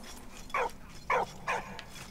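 A dog in the video game Valiant Hearts: The Great War lets out three short, close yips and barks in a quick, uneven rhythm, with faint whimpering between them over quiet background noise.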